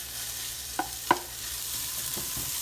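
Sausage sizzles steadily in a hot pan with a soft hiss, broken by a couple of light scrapes and taps of a spatula stirring it, close up, with no talking.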